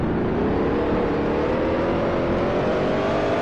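A race car engine in the racing game Grand Prix Legends, a loud continuous droning whine that rises slowly in pitch as it accelerates, steady and close.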